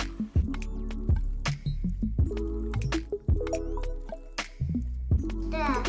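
Homemade play dough ingredients get mixed by hand, giving wet squishing and squelching noises in uneven bursts close up, with clicks and knocks around them and voices present.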